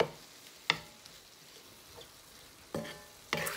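Ground beef cooking with spinach and Rotel in a pan, a quiet steady sizzle broken by a few sharp scrapes and knocks of the spoon against the pan.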